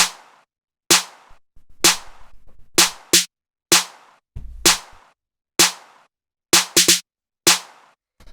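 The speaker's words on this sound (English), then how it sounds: "So this is just your pretty straightforward standard 808 snare." Single sharp 808 drum machine snare and clap hits crack out one at a time with short gaps, some doubled or rolled, dry and punchy, with a brief low rumble between.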